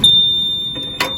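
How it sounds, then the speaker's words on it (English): A low fluid alarm on a maple syrup evaporator pan gives a steady high electronic beep that holds for about a second, with a brief clatter near the end. "This is a low fluid alarm that we have."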